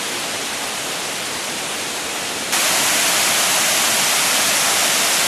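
A waterfall pours over black granite rock in the Cairns rainforest, a steady full roar of rushing water that jumps louder halfway through as if nearer the falls.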